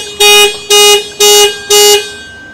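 A 2023 Perodua Axia car alarm sounds four loud, evenly spaced horn-like blasts at close range, each about a third of a second long, with no talking.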